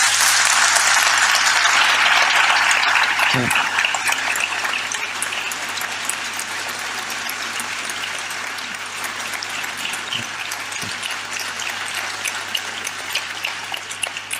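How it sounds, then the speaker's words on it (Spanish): Sustained applause from a crowd, loud at first and slowly thinning out as the clapping continues. "Fuerte aplauso para Pedro, por favor."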